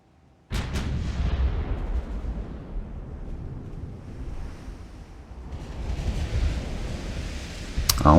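Naval gun turrets firing in Ultimate Admiral: Dreadnoughts: a sudden heavy blast opens a long rumbling roar like wind and surf, with another sharp report near the end.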